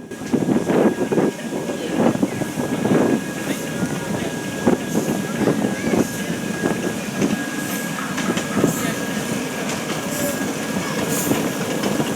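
Gusty wind beside a river buffets the microphone in uneven surges, a rough outdoor rumble with a faint steady tone running underneath.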